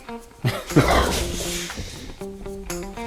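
Dogs playing, with short yips, whimpers and a bark scattered through steady background noise and a few tonal beeps.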